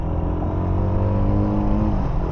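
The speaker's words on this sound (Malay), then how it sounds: "Bunyi exhaust dia." A Modenas Z15GT motorcycle's exhaust burbles loudly and close with a steady, deep cruiser-like drone and a slight rise in pitch, heard alone without talk.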